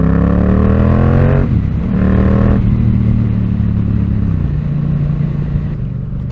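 A Yamaha MT-07 motorcycle is ridden and its engine is loud and close, droning steadily, with drops in pitch and then rises as the rider shifts gears.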